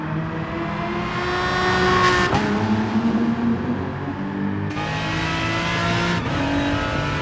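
A GR3 race car in GT Sport tears down Mount Panorama's mountain straight, its engine holding a loud, sustained high whine that rises and drops through several gear changes, with no talk over it.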